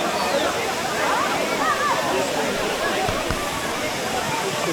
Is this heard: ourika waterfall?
yes